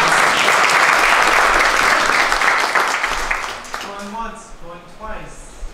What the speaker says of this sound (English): one more grand round of applause for our winner